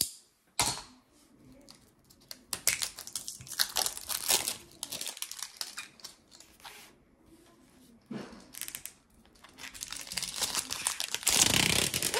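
Diamond painting kit package torn open by hand without scissors, with bursts of crinkling, crumpling plastic and paper rustles coming in irregular, close, fairly loud spurts.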